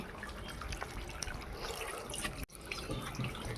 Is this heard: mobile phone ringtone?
no